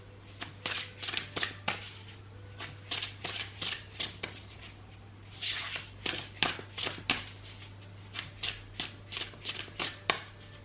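Oracle cards being shuffled by hand, close and fairly quiet: quick repeated riffling flicks in short clusters with brief pauses between, over a steady low hum.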